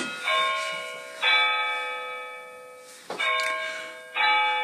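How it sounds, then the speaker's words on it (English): A clock chime rings out in a room near a model railway layout, four resonant bell-like strikes spaced about a second apart, each ringing and slowly decaying before the next. "There's the clock going off."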